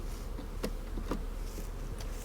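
Honey bees in an open production hive during frame inspection, a dense steady buzz close by with a few faint ticks and knocks over it.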